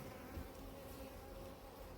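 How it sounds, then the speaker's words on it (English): Honeybees inside a beehive in an apiary during swarming season make a continuous low, even drone, heard close up and fairly quiet. "There's a couple of bees in here that are having a grizzle"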